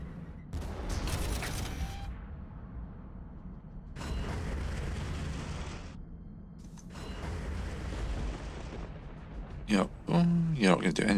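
Cannon artillery fire in the Warhammer 40,000 Armageddon video game: repeated loud booming blasts in bursts of several seconds, separated by brief lulls, with a short sharper burst near the end.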